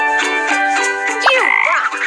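A cartoon frog in a children's math puzzle game on a phone or tablet croaks and warbles loudly and up close over bright, continuous game music.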